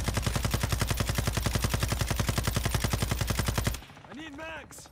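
A 7.62 automatic rifle in a shooter video game fires one long, steady burst of rapid, evenly spaced loud shots for almost four seconds, then stops, and a voice is heard briefly afterward.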